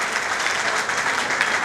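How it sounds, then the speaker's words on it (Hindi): Steady applause from an audience welcoming teachers at a college honouring ceremony in Lucknow, dense and continuous clapping at moderate loudness throughout. "आप लोग तालियों से स्वागत कीजिए करता ध्वनि से।"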